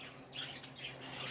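A pet bird squawks indoors in harsh, shrill bursts over a steady background hum, ending in a louder, sustained screech, with no talking.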